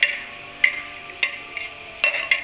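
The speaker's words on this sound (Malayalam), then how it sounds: "ഇനി ഈ സവാള ഇതേ ഓയിലേക്ക് തന്നെ ഇട്ട് ഇതിൽ നിന്ന് നന്നായി വഴറ്റിയെടുക്കാം" Onions sautéed and stirred in oil in a pan, with spoon scrapes coming in sharp bursts about every half second over a faint steady sizzle, close and with no talk.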